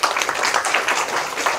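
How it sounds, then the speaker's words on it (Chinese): Students in a computer programming class clap for a classmate, a brief burst of close, lively applause from a small group. "那我们给建庆掌声"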